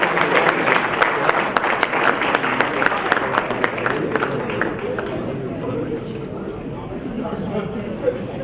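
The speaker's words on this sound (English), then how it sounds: "Can we have a good round of applause?" An audience at a youth conclave session in Hyderabad breaks into applause, a dense wash of clapping that starts strong and slowly tapers while a voice speaks over it.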